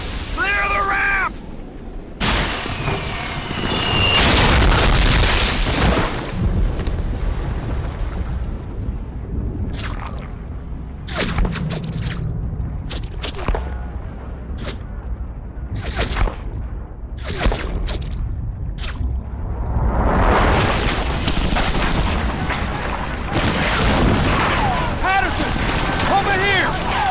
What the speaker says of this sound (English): That artillery strike scattered what's left of our squad all over the beach.